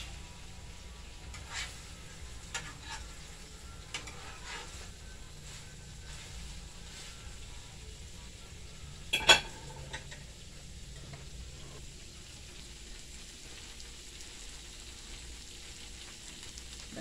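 Ackee and saltfish being stirred in a pot, Jamaican style, with a faint steady sizzle under soft scattered scrapes and clinks of the spoon, and one sharper knock near the middle.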